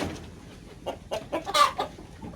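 A Bangkok breed chicken clucks in a few short irregular bursts, close and fairly clear, with quiet farmyard background between the calls.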